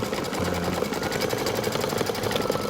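A Brother XV embroidery machine stitching a design, its needle running in a steady, fast mechanical rhythm with a continuous whirring hum, close and fairly loud with no talking.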